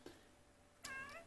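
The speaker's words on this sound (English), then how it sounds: "that's my cat meowing. He wants to go out." A cat gives two short meows, a faint one at the start and a louder, clearer one near the end, in a quiet room.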